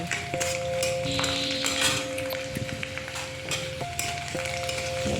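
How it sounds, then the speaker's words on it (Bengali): Garlic cloves frying lightly in hot oil give a soft, steady sizzle close by, with occasional faint clinks of a pan and utensil and a steady tonal hum in the background. "আমি রসুন কটা দিয়ে দিলাম রসুন কটা একটু হালকা ভেজে নেব"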